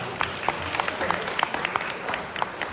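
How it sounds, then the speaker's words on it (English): A small audience at an Eagle Scout court of honor gives a round of applause: faint, sparse clapping from a few people, with distinct individual claps over soft room noise. "Let's give them a round of applause."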